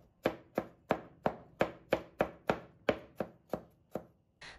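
A kitchen knife chops garlic on a cutting board in about a dozen sharp, evenly spaced strokes, close and loud with no talking.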